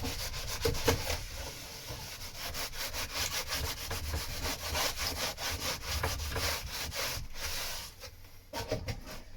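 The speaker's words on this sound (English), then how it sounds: "Generally just rub the crud off of them and they're good to go again." Steady, close rubbing and scrubbing as crud is wiped off a part with acetone, a rough continuous friction that runs without pause and eases near the end, with no talking.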